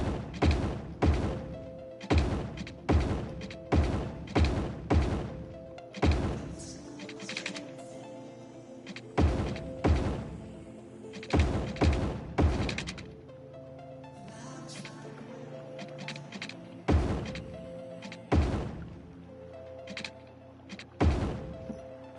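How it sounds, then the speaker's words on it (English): Firecrackers set off outside, heard as a long irregular series of sharp, booming bangs, some in rapid clusters and others spaced apart, loud and punchy against a quiet background. "So somebody was just shooting a firecracker or something outside."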